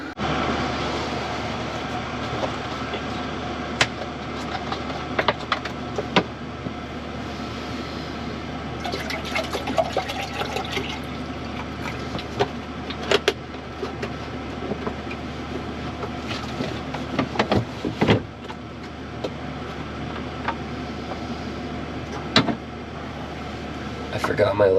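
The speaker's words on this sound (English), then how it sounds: "You can hear the river in the background with all the snow melt" A snow-melt-swollen river flows steadily in the background near a winter campground in the White Mountains, a continuous broad rushing wash with scattered clicks and knocks and no talk.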